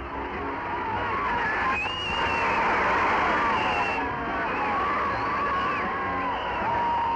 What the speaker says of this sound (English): The Beatles find it safer to take to the water as they tour the canals through lines of cheering fans